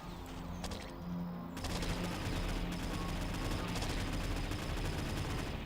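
Enemy gunfire erupts in the video game Triton Survival, a dense, loud, continuous barrage of overlapping shots and blasts that fills the whole stretch without a break.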